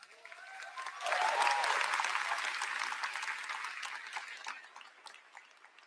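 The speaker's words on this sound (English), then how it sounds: "Everybody give a round of applause to my mom and dad." A large keynote audience at a tech conference in Taipei bursts into applause for the speaker's parents, swelling quickly to a broad, sustained roar of clapping, then tapering off gradually.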